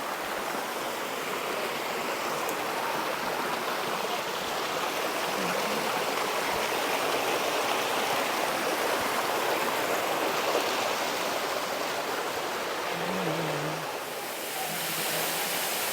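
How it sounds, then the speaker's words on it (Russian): A mountain river in Puerto Rico rushes steadily, a broad, constant roar of flowing water that stays loud and unbroken throughout, with no voices. "Горная река."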